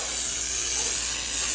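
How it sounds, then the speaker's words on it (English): Armor All Tire Shine is sprayed onto car tires in a continuous close hissing spray, loud and steady for the whole stretch with no talking. "spray it around."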